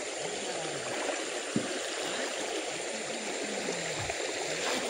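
Flowing stream water swirls and gurgles steadily as someone wades through it, with soft splashing bursts and a brief thump mid-way, close and continuous with no talk.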